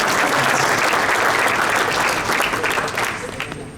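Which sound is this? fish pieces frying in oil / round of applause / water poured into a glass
round of applause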